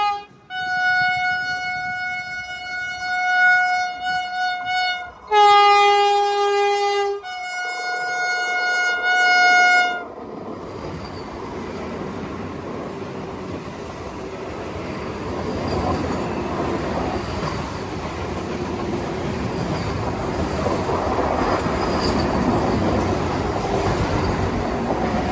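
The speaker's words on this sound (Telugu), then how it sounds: "యశ్వంత్పూర్ కాచిగూడ వందే భారత్ ఎక్స్ప్రెస్. అది మన కాచిగూడ వందే భారత్ ఎక్స్ప్రెస్." The Yesvantpur–Kacheguda Vande Bharat Express sounds a loud multi-tone horn in several blasts, then rushes past with a sustained roar of wheels and rail noise that stays strong to the end.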